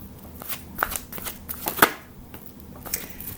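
A deck of tarot angel blessing cards being shuffled close up, a steady stream of soft papery flicks and snaps with a couple of sharper slaps.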